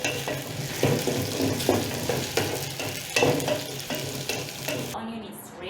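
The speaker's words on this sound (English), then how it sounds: "Let's go and burn the onions." Onions frying in a pan sizzle steadily up close, broken by repeated scraping and stirring strokes at an irregular rhythm, before the sound suddenly drops away near the end.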